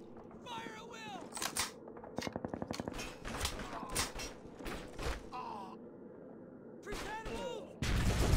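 Call of Duty 2 battlefield gunfire: rapid rattling bursts and scattered sharp shots over a constant rumble of combat, with voices speaking throughout.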